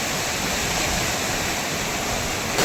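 Floodwater surging through a town after torrential rain in Gariyadhar, a dense, unbroken rushing roar close by and fairly loud throughout, with no voices over it.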